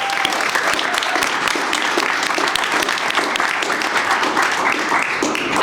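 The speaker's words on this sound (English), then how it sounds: "let's give them all a round of applause" Audience applause fills a room at a state house celebration, dense, steady clapping throughout without a break, loud and close.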